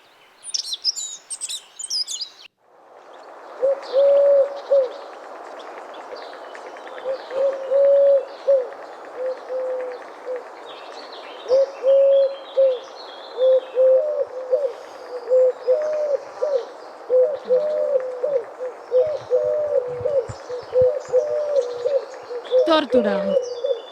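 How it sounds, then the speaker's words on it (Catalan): A turtle dove coos in a repeated series of soft, low purring phrases, steady and close over a bed of background noise and faint chirps, with a brief voice at the start. "Tórtora."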